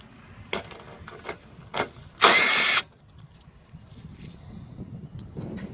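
A power tool takes bolts out of the engine of a 2017–2020 Nissan Rogue 2.5L. There are several short clicks and knocks, then one loud half-second burst of whirring, then quiet background.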